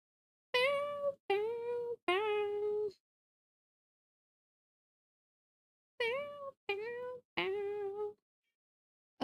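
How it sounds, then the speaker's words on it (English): Luna, a pet cat, meows six times close by: three quick meows, a pause of about three seconds, then three more, each clear and drawn out, with no talk. "that was the sassiest meow I've ever heard"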